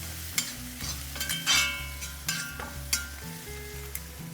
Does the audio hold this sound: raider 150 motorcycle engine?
no